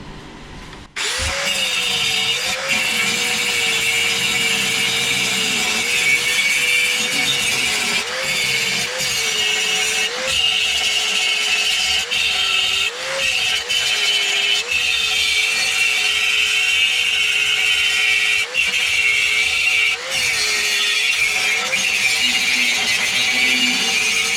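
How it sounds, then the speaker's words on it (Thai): Power sanding with a sandpaper flap disc on scrap steel box tubing for a DIY metalwork build, a loud steady abrasive whine that runs continuously with small dips in pitch as the disc is pressed against the metal. "ใช้กระดาษทรายนะใบขัดกระดาษทรายนะครับ"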